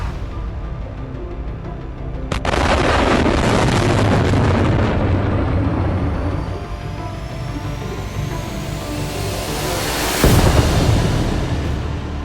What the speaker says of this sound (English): Just one guided rocket was enough to destroy the entire target.